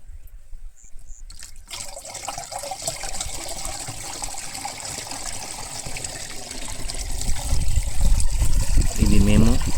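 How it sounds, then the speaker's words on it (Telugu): Water is poured into a mixture being prepared for spraying tomato plants. It starts as a faint trickle, then grows into a louder, fuller gush toward the end, under some background voice. "ఇప్పుడు మనము దీంట్లో నీళ్లు పోయవలెను"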